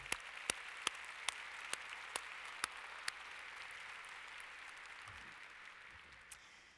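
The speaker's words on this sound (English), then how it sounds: "give thanks and a round of applause to them" Steady applause from an audience at a university winter commencement ceremony, with a few sharp, evenly spaced claps standing out close by early on, fading slightly toward the end.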